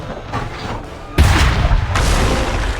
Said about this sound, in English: move L to orientate the cannon and press fire